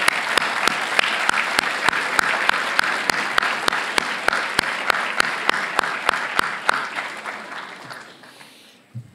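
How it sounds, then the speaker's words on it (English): An audience at a school drama festival lecture gives a steady round of applause, dense clapping with some sharp individual claps standing out, holding for several seconds before tapering off to quiet. "Can we have a round of applause for Mrs. Spate, please?"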